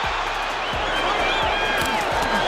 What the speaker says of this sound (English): The crowd going nuts here, seeing Foreman score.